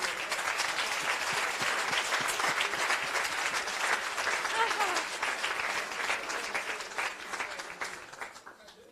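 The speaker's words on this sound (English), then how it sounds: "a clap to the reviewers out there in the room" A room full of people at a publication launch event in the European Parliament claps for the reviewers, steady dense applause that holds for several seconds and then tapers off near the end.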